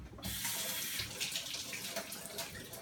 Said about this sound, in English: we're going to take these and we're going to go ahead and rinse them off.